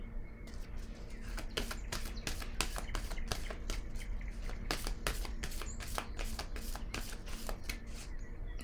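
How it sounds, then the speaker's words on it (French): Tarot cards being shuffled and laid down, a quick run of crisp riffling flicks and soft slaps close up, with faint birdsong in the background. "Je vais déposer une autre carte."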